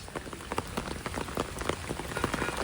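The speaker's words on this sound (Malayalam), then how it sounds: "ഇങ്ങനെ നടന്ന് കാണുന്ന സമയത്ത് മഴ ഒട്ടും പ്രതീക്ഷിച്ചില്ല" Rain falling steadily on a street in Shillong, Meghalaya, a dense close patter of drops spattering on hard surfaces, with no talking.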